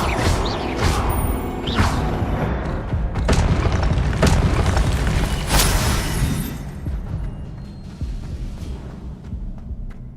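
Spells such as levitation, fire and blasting charms cast in a Harry Potter video game, several loud booming impacts and whooshes in succession, the bursts fading into a low rumble toward the end.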